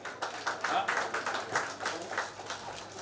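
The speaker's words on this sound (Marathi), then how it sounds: "टाळ्या वाजवल्या जोरदार." An audience claps during a felicitation ceremony at a digital media workshop, a run of rhythmic clapping bursts at moderate loudness that rise and fall for a few seconds, with voices faintly underneath.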